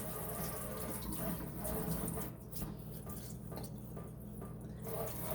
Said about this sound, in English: See that dripping?